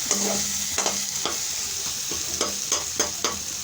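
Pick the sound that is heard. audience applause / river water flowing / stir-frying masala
stir-frying masala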